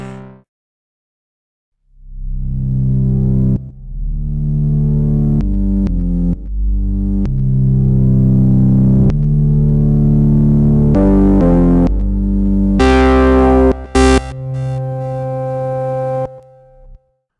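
A Bazille synthesizer plays a sequence of sustained, resonant notes whose tone brightens and closes as the filter sweeps shut, with several chords in a row.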